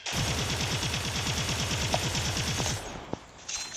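Rapid automatic gunfire in the video game Call of Duty Mobile rattles out in a fast sustained burst for nearly three seconds, loud and close, then cuts off with a couple of single shots.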